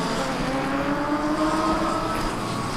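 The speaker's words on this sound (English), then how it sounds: "he winds up the Fiat Bambina, gets the old chain into gear, and away he goes" Classic racing cars, among them an old Fiat Bambina and a Honda Civic, pull away from the start of a club race meeting: a continuous engine drone with rising tones, heard from a distance and no voices.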